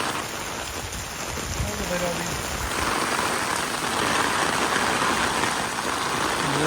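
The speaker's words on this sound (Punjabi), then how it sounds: "ਬਾਛੜ ਵਾਲਾ ਮੀਂਹ ਪੈ ਰਿਹਾ" Heavy monsoon rain with wind roars steadily and close, a dense wash of noise that swells louder partway through, with a brief voice early on.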